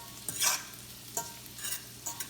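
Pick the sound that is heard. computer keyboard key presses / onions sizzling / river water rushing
onions sizzling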